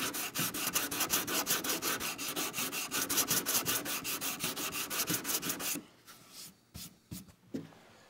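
A putty knife or carbide scraper drags over excess wood filler on a board in quick rhythmic rasping strokes, loud and close for several seconds, then a pause and a few sparser scrapes.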